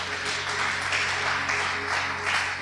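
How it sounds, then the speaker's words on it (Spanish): Broad, sustained clapping from a church congregation welcoming new members, dense and even throughout with a low steady hum beneath. "un aplauso para los que iniciaron hoy la escuela de nuevo miembro"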